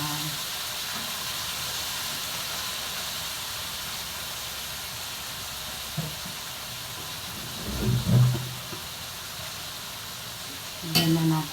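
Chicken caldereta stirred and sizzling in a pan, a steady soft frying hiss throughout with a few louder scraping stir bursts near the end, no talking.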